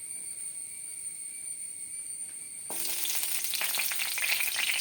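Chopped ginger and small garlic cloves drop into a hot pan and set off an abrupt, loud sizzle partway through. A quiet stretch comes first, then crackling, spattering frying continues steadily to the end without speech.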